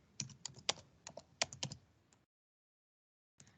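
Typing on a computer keyboard: a quick burst of about a dozen crisp, close key clicks in an uneven rhythm, a brief silent pause, then a couple more keystrokes.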